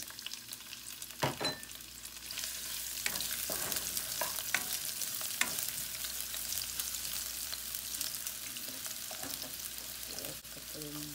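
Chopped onion sizzles steadily in two tablespoons of hot oil in a pan for vegetable lumpia, with scattered stirring scrapes and louder crackles throughout, close and continuous with no talk.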